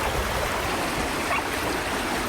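Floodwater rushing through a street in Mobile during flash flooding, a dense, continuous roaring wash of flowing water, steady and fairly loud with no talking.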